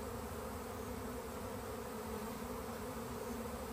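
A swarm of honey bees drones in a dense, continuous buzz that stays steady and fairly quiet throughout, with no pauses and no voices.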